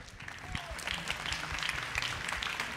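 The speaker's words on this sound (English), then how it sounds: "round of applause." Audience applause at the PUZZLE X science keynote event: a steady wash of clapping from a seated crowd, moderately loud and sustained for a few seconds without a clear break.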